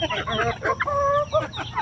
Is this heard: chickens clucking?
yes